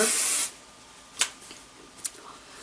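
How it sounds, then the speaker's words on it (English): Vibrant Sexy hairspray hisses from an aerosol can in one steady half-second burst, followed by two faint, brief rustles of hands scrunching hair. "So I'm going to go in with the Vibrant Sexy hairspray and just kind of go through and scrunch it into my hair."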